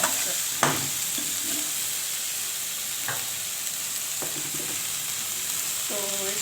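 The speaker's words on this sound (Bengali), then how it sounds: "পেঁয়াজের সুন্দর গন্ধ হবে, আদা রসুন পেঁয়াজের, তখন মশলাটা ভাজা হয়ে গেছে" Onion, ginger, garlic and spice paste frying in a pan: a steady, close sizzle, broken by several sharp spatula scrapes and stirs at irregular intervals.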